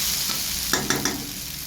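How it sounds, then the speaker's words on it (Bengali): Onions sizzling in a pan, a steady frying hiss broken by three quick scraping strokes of a stirring spoon. "পেঁয়াজটা ভালো করে ভাজা ভাজা হয়ে গেছে"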